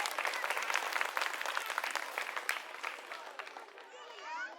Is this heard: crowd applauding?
yes